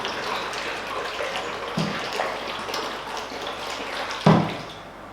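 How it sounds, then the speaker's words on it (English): Water pours and splashes into a cooking pot of chopped vegetables for a pasta sauce, a soft continuous trickle with a couple of sharper knocks and splashes, close and fairly quiet. "I'm going to fill that up with some more water so that all the vegetables are covered"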